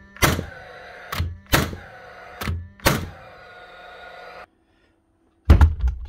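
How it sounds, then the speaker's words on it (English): A cordless nail gun blank-fires, its drive pin shooting without a nail: five sharp thunks in uneven rhythm, each followed by a humming whir that runs on, then a pause and one more loud thunk near the end, close and alone. "every now and again she's shooting, but there's no nail coming out"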